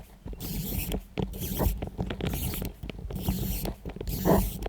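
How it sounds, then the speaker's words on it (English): A Miyota 8215 automatic watch movement is wound by hand, giving repeated bursts of close, scratchy ratcheting, each stroke followed by a short pause. "Here you can hear what the movement sounds if you hand wind it."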